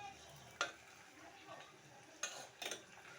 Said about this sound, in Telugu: అందుకే మనం ఆపకుండా కలబెడుతూనే ఉండాలి.